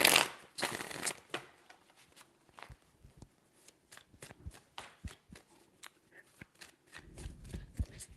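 Tarot cards shuffled by hand in repeated quick riffles and taps, close up, with a louder burst at the start and another near the end, and quiet pauses between strokes.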